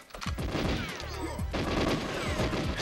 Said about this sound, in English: I was hearing other bullets